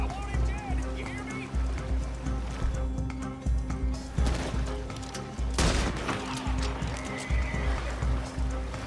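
A horse whinnies repeatedly amid hoofbeats and scattered gunfire in the video game Red Dead Redemption 2, with someone talking over much of the action.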